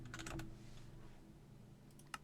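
Quiet keyboard typing in a Minecraft session, a short burst of several quick keystrokes followed by a pause and a couple more taps near the end.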